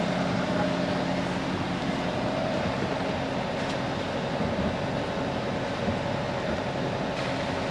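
A sailing yacht motoring under engine power in calm, windless conditions at sea, a continuous steady low drone with broadband hull and water noise throughout.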